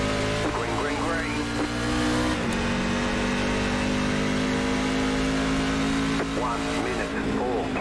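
NASCAR race truck engines accelerating hard at a green-flag restart at WWT Raceway at Gateway in iRacing, loud sustained revving with gear shifts partway through, a voice talking over the roar.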